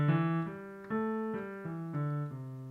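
Major pentatonic scale played on a MIDI keyboard: six sustained synth-like tones climbing step by step at an even pace, clear and alone with no talking.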